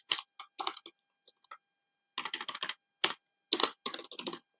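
Python code typed on a computer keyboard comes in quick bursts of close, crisp key clicks separated by short silent pauses, with no talking over them.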